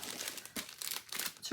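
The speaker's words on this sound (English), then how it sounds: "it comes in a nice plastic bag" A plastic bag protecting a diamond painting kit crinkles and rustles in short bursts as it is opened, close and fairly soft, with no talking.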